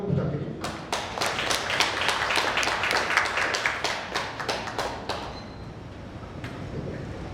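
Audience applause greets a board-director candidate at a redevelopment-district meeting, a dense run of hand claps in a hall that swells, holds for several seconds, then thins out into scattered claps.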